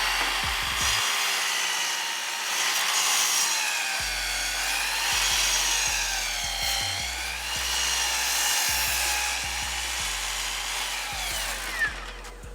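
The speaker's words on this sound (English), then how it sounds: "Now we're going to square up the ends with our festival miter saw." A Festool miter saw squares up the ends of a wooden workpiece, its motor whining loudly close by with rising and falling pitch as each cut is made, and no talk.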